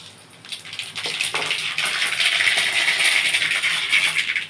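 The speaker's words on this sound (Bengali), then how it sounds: "কড়াই আমি সর্ষের তেল দিয়ে দিয়েছি। আমি ফোড়নটা দিচ্ছি" Whole spices hit hot mustard oil in a wok and set off a loud, bright sizzle that starts after a brief quiet moment and then crackles steadily without pause.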